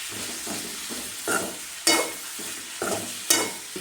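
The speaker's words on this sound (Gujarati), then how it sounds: "થોડીક હળદર નાખ્યું, પછી ધાણા જીરું, પછી થોડા દે હલાવશું આપણે ધીરે ધીરે" Turmeric and coriander-cumin powder are stirred into a sizzling tempering for radish relish, with a soft fry hiss and rhythmic spoon strokes scraping the pan about twice a second, a few louder scrapes standing out.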